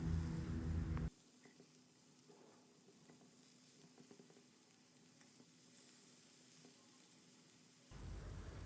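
Colorful vegetables sizzle on a hot grill pan with a soft, steady frying hiss and faint clicks, bracketed by louder broadband bursts at the start and end.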